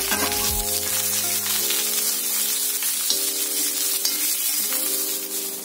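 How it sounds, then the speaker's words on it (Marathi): Chopped onion frying in a pan with garlic and ginger for misal pav, a steady close sizzle with a constant crackle throughout, loud and unbroken, no voices. "आता आपण कांदा घालूया त्यामध्ये। तो पण व्यवस्थित लाल करून घ्यायचा आहे।"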